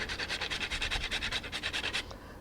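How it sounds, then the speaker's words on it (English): A whole nutmeg is scraped across a grater in about a dozen quick, even rasping strokes, close and clear, before the scraping stops. "add the remaining seasoning, and few grates of nutmeg"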